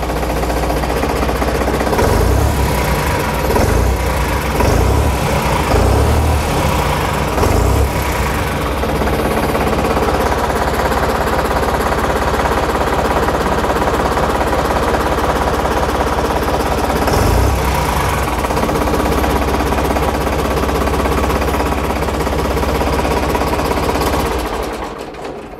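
A steady, loud tractor engine drone runs continuously with a knocking, rattling pulse, close by, then cuts off near the end.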